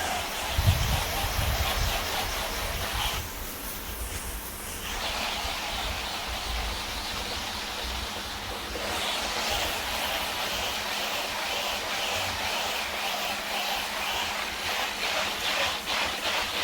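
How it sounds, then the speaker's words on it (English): A homemade bucket pump sprayer washes down a building, giving off a steady broadband hiss of spraying water that runs continuously at moderate level, with a brief low thump near the start. "this bucket pump sprayer that I'm using is something I made myself with parts from Amazon and Ace Hardware"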